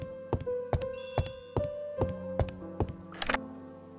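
A telephone rings in the video game Agatha Christie: The ABC Murders, sounding as a series of sharp, bright ring strikes in an uneven rhythm, with tonal chimes over a steady background of game music.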